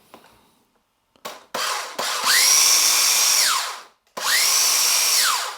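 A cheap WLToys RC car's electric motor spins the wheels in two close bursts, a whirring whine that climbs in pitch, holds, then winds back down, with short clicks before the first rev.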